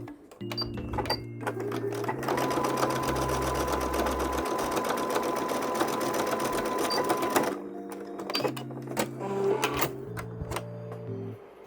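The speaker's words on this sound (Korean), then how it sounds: "챙도 똑같이 겉이 마주보게 두시고 옆선을 재봉해 줄 거예요." A sewing machine stitches the side seam of a reversible bucket hat brim, with short bursts of stitching around one sustained run of rapid, steady mechanical clatter in the middle, fairly quiet and close.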